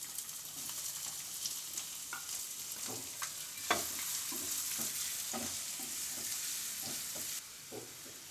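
Finely chopped medium-size onions stirred and fried in a pan with pasta, a steady close sizzle broken by scattered utensil scrapes and clinks, with no voices.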